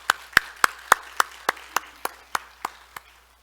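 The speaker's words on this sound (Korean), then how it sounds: "우리 그분께도 한번 박수를 올려드리겠습니다." Church congregation at a Sunday service claps in unison, about eleven sharp, evenly spaced claps that gradually soften and end.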